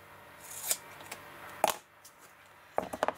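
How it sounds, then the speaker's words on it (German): Adhesive tape is cut off the roll in a quiet room, with a few short, sharp snips and crinkles scattered across the moment over a faint background. "ich schnappe mir jetzt mal mein Klebeband und schneide es mir ab"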